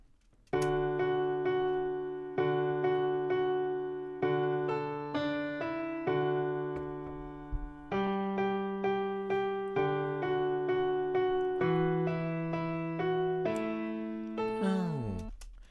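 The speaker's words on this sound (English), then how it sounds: "I loaded up a sample, the Jingle Bells melody. Let me just play it right here." Jingle Bells melody played from a sample loaded in FL Studio: bright, bell-like sustained notes repeating the familiar tune in clear phrases, ending with a quick falling pitch sweep. No voices are heard.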